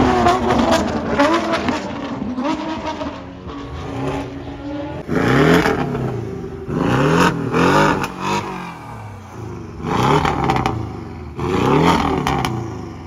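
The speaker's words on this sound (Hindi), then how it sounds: "पोर्शे पीछे रह गई वो भी आ रही होगी उसकी भी आवाज़ सुनो" A loud Porsche exhaust at a supercar event at BND revs in repeated bursts, each rising and falling with a rasping tone, close and powerful over about thirteen seconds, with engine drone between pulls.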